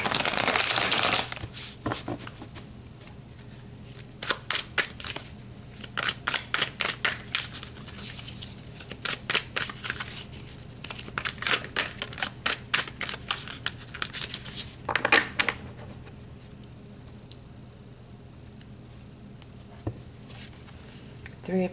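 Tarot cards being shuffled by hand, bursts of crisp riffling and flicking that come in rapid clusters with short pauses between, close and clear with no talk over them.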